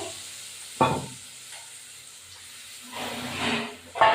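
Frying hiss in a pan after spice paste and water go in while cooking potol-aloo rasa, with sharp bursts of sizzle near the start and end and a steadier steamy hiss between, no talk.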